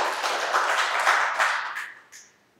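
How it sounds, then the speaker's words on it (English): Recorded applause played back through a meetup room's sound system, a dense wash of clapping that holds steady, then thins and fades out within a couple of seconds. "I put all these clapping people there to encourage you to clap"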